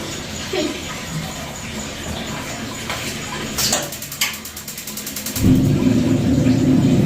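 Water begins running from a newly installed water heater, a steady rushing flow that swells louder toward the end after some clatter and brief knocks, nearby and continuous.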